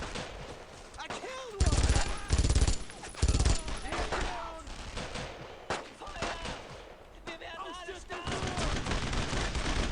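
Rapid gunfire bursts and sustained machine-gun fusillades from the World War II shooter game Brothers in Arms: Road to Hill 30 crack loudly in clusters, with in-game shouting and a voice talking between and under the shots.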